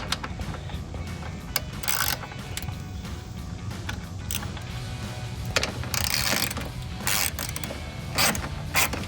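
A hand ratchet with a 10mm socket clicks while a bolt is loosened on a 2013-2014 Ford F-150 during headlight removal, quiet repeated ratcheting bursts in a steady back-and-forth rhythm.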